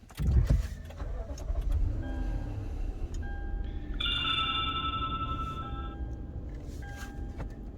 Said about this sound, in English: Go ahead and start your car.